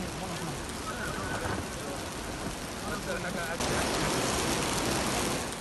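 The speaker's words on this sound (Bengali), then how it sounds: "মসজিদে নববীতেও অঝরে ঝরছে বৃষ্টি।" Heavy rain pours down in Medina during a flash flood, a dense steady hiss that swells louder partway through, with faint voices in the background.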